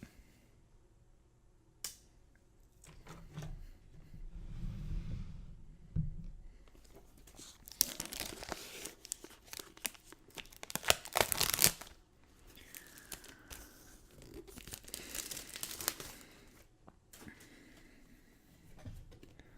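Plastic wrap is torn and crinkled off an Eldritch Moon Magic card fat pack at close range, with sharp snaps, rustling bursts and quiet pauses between the handling sounds.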